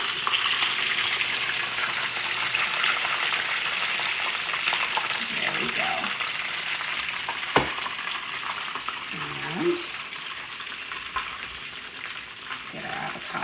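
Taquitos frying in hot oil in a home kitchen: a steady, close crackling sizzle throughout, with a few brief clinks and shifts as they are moved in the pan.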